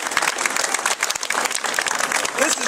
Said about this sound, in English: Let's give Mark Brayshore, Chief Brayshore, a round of applause.